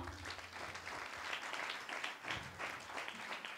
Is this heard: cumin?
no